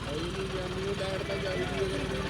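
A steady, low John Deere tractor engine rumble with a throbbing pulse drones continuously, close by and fairly loud.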